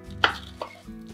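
A knife chops through an onion on a board, two sharp close strikes and a softer third within about a second, with no voices.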